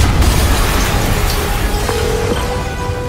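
A loud explosion in the PS4 game Marvel's Spider-Man, heard as a dense, sustained rumbling roar with deep low-end weight that stays steady for several seconds, with no voices over it.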